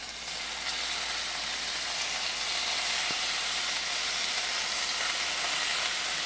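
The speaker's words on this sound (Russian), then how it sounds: "А мясо отправляю на хорошо разогретую стальную сковороду." Meat sizzles in sunflower oil in a very hot steel pan, a loud, steady, broadband crackle that holds evenly throughout, with one brief knock of the pan partway.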